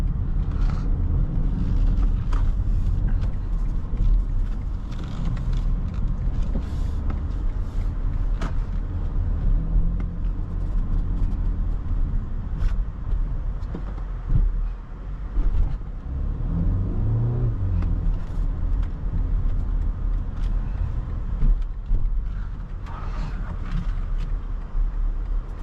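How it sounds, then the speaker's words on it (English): A BMW X1 xDrive28i M Sport SUV driving, a steady interior engine rumble and road noise that swells as it accelerates, continuous and close. "very fun BMW X1 xDrive28i M Sport. Very fun to drive, nice little SUV."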